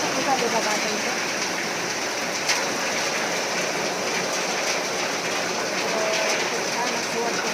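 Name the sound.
heavy rain falling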